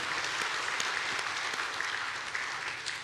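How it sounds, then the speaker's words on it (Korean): A church congregation applauds steadily throughout, a dense, even wash of many hands clapping at moderate volume with no voices over it. "하나님께 영광의 박수를 드립니다."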